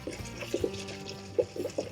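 Sparkling water being poured into the radiator of a Toyota Landcruiser, a quiet splashing pour with a few soft gurgles and drips, fairly close and low in level with no talking.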